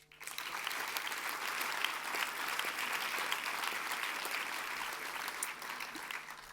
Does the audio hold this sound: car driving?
no